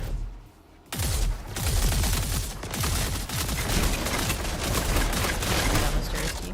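Gunfire rattles through a video game in rapid, overlapping bursts of shots that stay loud and steady for several seconds, with voices occasionally underneath.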